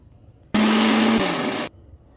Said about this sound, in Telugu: కలుపుకున్న ఈ టమాటా మిక్సీ జార్లో కొంచెం కొంచెం వేసుకొని మిక్సీ పట్టుకోవాలి